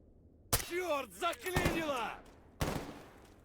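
Gunfire in S.T.A.L.K.E.R. GAMMA 0.9.3 aimed at a Master Exosuit enemy: a few sharp, loud shot bursts spaced about a second apart, with a wavering voiced cry from a character in between.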